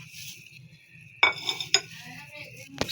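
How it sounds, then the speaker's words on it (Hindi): A knife clinks and taps against a plate or board while peeled guavas are cut in a kitchen, a few sharp metallic strikes over a low background hum. "सबसे पहले अमरूद काट लिए।"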